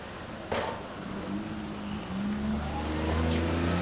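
2009 Harley-Davidson FXDF Fat Bob with a Screamin' Eagle exhaust revving, a fairly faint, mid-distance engine note that climbs and holds, with a brief knock near the start.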